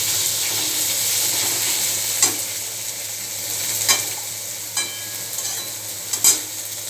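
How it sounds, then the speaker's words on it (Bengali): Tomatoes being sautéed in a pan for a fish dish, a steady close sizzle and hiss with a few sharp clicks of a spatula stirring against the pan, no voices. "টমেটো দিয়ে খুব ভালো করে কষিয়ে"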